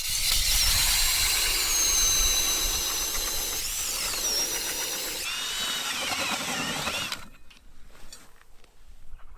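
A power ice auger drill boring a hole through lake ice while perch fishing in Maine, running loud and steady with a whining, squealing motor for about seven seconds before cutting out into quieter rattling and clatter.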